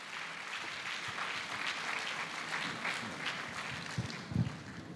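Audience applause at the opening of an inaugural medical college convocation, a fairly faint, even wash of clapping from a large hall crowd lasting the whole stretch.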